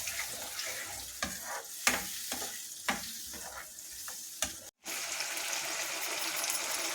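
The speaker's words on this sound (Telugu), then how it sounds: "ఇంగువ వేసి బాగా వేయించాలి. నూనె అంతా బయటికి వచ్చే వరకు" Asafoetida frying in hot oil for a ginger pickle, a steady sizzle with sharp scraping stir strokes against the pan at irregular intervals and a brief dropout, no talk.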